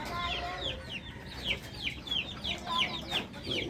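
Several hens cluck in a continuous, chattering rhythm nearby, the calls overlapping over a constant outdoor hum.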